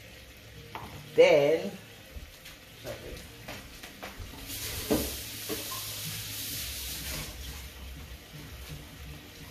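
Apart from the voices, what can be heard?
tofu pasta sauce simmering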